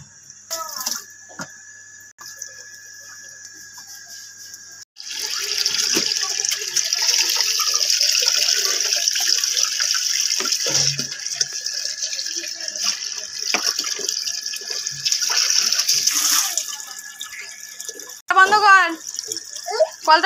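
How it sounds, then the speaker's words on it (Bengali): A household water tap running in a home, a steady hiss of flowing water that fills most of the clip and cuts off near the end, with a voice speaking over it. "কলটা বন্ধ করো, বন্ধ করো কল।"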